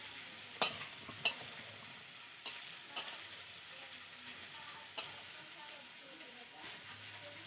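Boondi frying in hot oil, a faint, steady sizzle broken by occasional clinks and scraping stirs, with soft background sounds.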